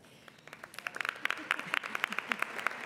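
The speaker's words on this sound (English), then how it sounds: "I think that deserves applause." Scattered clapping that builds into fuller applause from the audience at a large birthday luncheon, sharp individual claps standing out, with talk faintly underneath.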